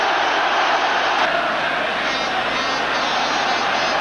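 A football stadium crowd of over 50,000 at a Celtic match roars in a steady, dense wall of cheering that fills the whole stretch without a break.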